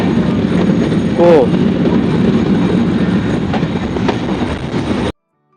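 A passenger train runs on rails on the route from Bheramara to Dhaka, producing a loud, continuous rumble with a brief high squeal near the start before the sound cuts off abruptly.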